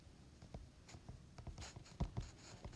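Marker or chalk writing on a board in a classroom math lesson: a series of quick, faint scratches and taps in irregular rhythm, close by with no talk.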